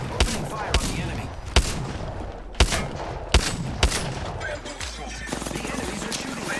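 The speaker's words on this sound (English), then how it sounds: "The enemies are shooting at me." Apex Legends gunfire with sharp, loud shots cracking at irregular intervals over a dense bed of in-game battle noise. Some bursts come in quick pairs, and background talk blends in with the action.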